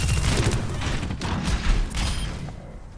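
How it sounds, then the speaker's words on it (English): Charged railgun shot from Sojourn in the Overwatch 2 video game, a dense burst of heavy booming gunfire and impacts filling the clip, loud and continuous with no speech. "charged. and then hit her with the charge shot when she's out of the suit"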